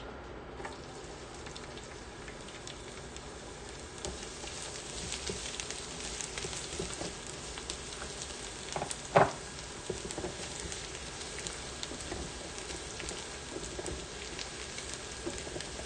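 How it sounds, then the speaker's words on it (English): Garlic and pork sausage sauté in a hot pan, giving a steady, dense sizzle and crackle throughout, with one brief louder pop or clink partway through and no voices. "we're going to saute some garlic with our pork sausage"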